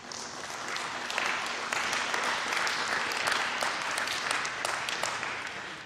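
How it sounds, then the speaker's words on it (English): Applause from a live podcast audience recorded at Henrico East Jail, a steady round of clapping sustained for several seconds without talk. "Give the sheriff a round of applause too"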